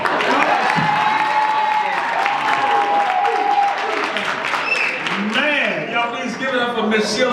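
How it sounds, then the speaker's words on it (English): Crowd applause and cheering at a company meeting in Las Vegas fill the whole stretch, a loud, dense wash of clapping with whoops and voices mixed in, steady throughout. "y'all give me one more round of applause"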